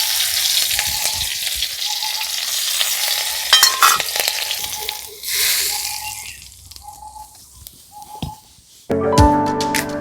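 Crushed garlic and chopped green chili frying in hot oil for dhaba-style egg tadka, a loud close sizzle that gradually eases, with stirring clinks and a few short beeps over it, and a burst of clatter at the end.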